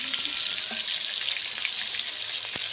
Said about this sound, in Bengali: মশলাগুলো দিয়ে ভালো করে কষাবো